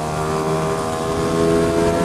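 Lambretta scooter engine running at a steady, loud idle, a continuous buzzing drone close by with a slight rise in level toward the end.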